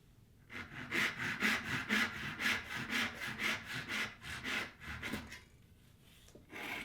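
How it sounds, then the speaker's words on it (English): A Shinto rasp shaping a piece of wood held in a vise, heard as a close, rhythmic series of about a dozen sweeping, scratchy strokes, then a pause. "I can go with that sweeping stroke with the Shinto rasp."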